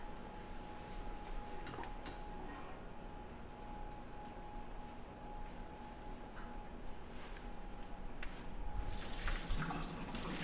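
Boiling water and potatoes are poured from a pot into a kitchen strainer, giving a steady, rushing splash that runs continuously and grows a little louder and more turbulent toward the end.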